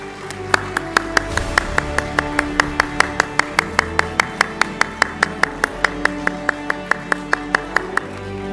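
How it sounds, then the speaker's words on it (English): Audience clapping at an award presentation during an opening ceremony, sharp regular claps in a steady rhythm over a low murmur, close and clear for the whole stretch. "Please keep the round of applause going."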